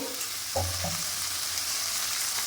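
Raw prawns stirred in a hot pan over a high gas flame, giving a steady close sizzling hiss with a couple of soft knocks near the start.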